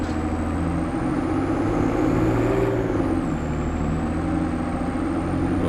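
A tractor engine drives along in a farming video game, giving a constant heavy, low rumble with a faint rising and falling whine above it, close and loud throughout with no talk.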